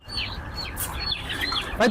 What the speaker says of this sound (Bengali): প্রচুর পরিমাণে টাইগার মুরগি আছে রাজু ভাই